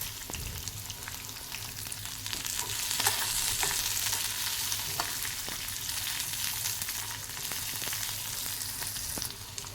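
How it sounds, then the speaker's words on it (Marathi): Plenty of garlic and cumin sautéing in a pan for thecha potatoes, a continuous close sizzle that swells slightly midway, with faint intermittent stirring scrapes and no voices. "भरपूर लसूण घेतलेला आहे आता हे आपल्याला चांगलं परतून घ्यायचं आहे जिरं घातलेलं आहे"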